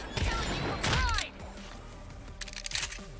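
Gunfire in the video game Agents of Mayhem, with a loud broadband burst near the start and a heavier volley around one second, followed by scattered fainter shots and a few whooshing effects over a steady game backdrop.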